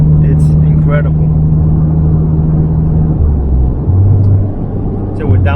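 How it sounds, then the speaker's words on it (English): A supercharged Mazda ND Miata with a 6-speed manual hums with a loud, steady engine drone from inside the cabin, its pitch shifting as it downshifts and picks up gas, while someone talks over it. "So with downshift, fourth, little bit of gas, and she's planted."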